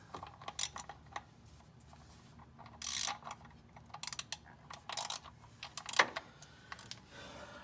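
Socket wrench with a deep socket ratcheting on the oil drain plug of a 1994 Mercedes C280 W202 with the M104 engine, giving quiet, uneven bursts of close mechanical clicks with short pauses between them.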